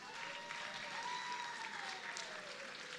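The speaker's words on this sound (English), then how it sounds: "Please give them a big round of applause" Audience at the Miss World Nigeria 2026 grand finale in Balmoral Hall, Federal Palace Hotel, applauding steadily in a large hall, a continuous wash of clapping with a faint tone running beneath.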